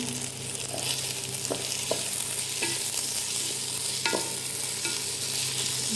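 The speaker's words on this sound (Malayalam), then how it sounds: "2 മിനിറ്റ് ഇളക്കി കൊടുത്തു." Rice being stirred in ghee in a pan for Kerala-style ghee rice, a steady close sizzle broken by scraping strokes of the spoon against the pan.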